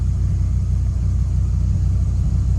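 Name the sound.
Dodge Viper engine running in first gear, clutch released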